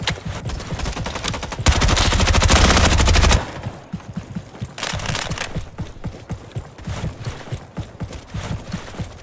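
Automatic gunfire in the Roblox shooter Frontlines: a loud sustained burst for about two seconds, then a run of rapid, uneven shots through the rest of the clip, with no talking.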